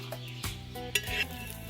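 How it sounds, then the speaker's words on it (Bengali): White cooking oil heats in a kadai (wok) and gets spread around, giving a faint sizzle with soft scraping and a few light metallic clinks of the pan and utensil, close by and quiet. "কড়াইতে আমরা একটু সাদা তেল দিয়ে দিলাম। সাদা তেলটাকে এইভাবে মেখে নেব। তেলটা গরম হয়ে গেছে,"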